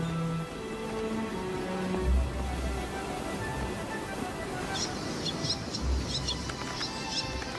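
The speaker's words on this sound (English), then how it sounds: "The air is alive with birds." Seabirds such as fairy terns and tropic birds call over Ascension Island's cliffs, with repeated high chirps and piping notes overlapping against a steady ocean-side wash, moderately loud throughout.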